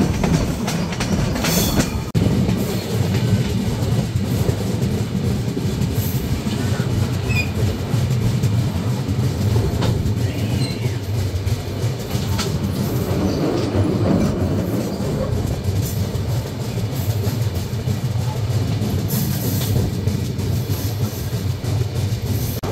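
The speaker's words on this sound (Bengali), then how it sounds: "ট্রেনটি যত সামনের দিকে অগ্রসর হচ্ছে" The Sundarban Express runs on its rails with a loud, steady rumble and rattle of wheels that carries on unbroken throughout, with no voices over it.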